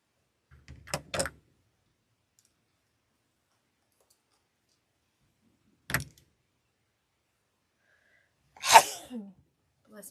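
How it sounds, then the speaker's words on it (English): A person sneezes from craft fuzz while making a storm door wreath, one short sharp burst near the start and another near the middle, then a louder sneeze toward the end, with near silence between. "now I'm going to sneeze from all the fuzz"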